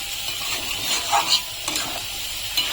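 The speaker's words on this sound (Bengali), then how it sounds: "এখন আমি এর ভিতরে সামান্য মিষ্টি দিয়ে দিচ্ছি, চিনি দিয়ে ভালো করে নাড়িয়ে চেড়ে দেবো" Cooked bottle gourd curry with a little sugar is stirred in a pan, a soft steady sizzle with brief spoon scrapes and light clinks, close, no talking.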